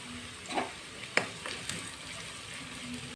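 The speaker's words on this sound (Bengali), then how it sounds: "এখন এটা আমি হালকা করে ভেজে নেব। দিয়ে দিচ্ছি লঙ্কা কুচি" Chopped onion, ginger and chillies frying for street-style chowmein make a soft, faint sizzle with a few sharp clinks and scrapes of stirring, close by and without talk.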